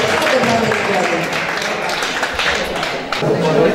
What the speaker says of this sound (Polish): Ogromne brawa dla gimnazjum.